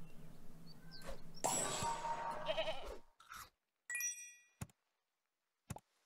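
A goat bleats in the Super Auto Pets video game, a short electronic bleating cry followed by a few brief chimes and clicks from the game interface against a quiet background.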